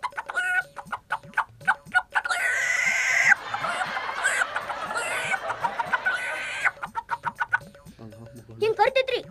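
A voice imitates a rooster holding grain in its beak and calling the hens, with a run of rapid clucking and chattering calls that rise into louder bursts, close and alone.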